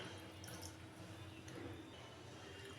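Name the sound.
a little water poured into a steamed egg curry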